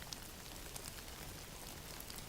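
Steady, soft background rain patters on surfaces, an even hiss of drops with occasional faint splashes, low in volume and alone.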